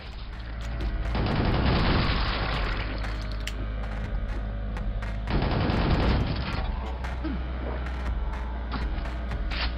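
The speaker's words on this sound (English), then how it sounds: "Is this not a banger of a rocket launcher?" A rocket launcher fires in a Quake mod video game, with two heavy booming blasts and rumbling explosions amid dense rapid gunfire and battle noise, loud and close.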